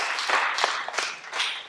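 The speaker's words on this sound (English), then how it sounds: "I think they deserve a round of applause for their preparation." Brief, moderate clapping from a conference audience thanking a panel on chronic disease and life expectancy, a scattering of hands rising and falling in short bursts with no voices over it.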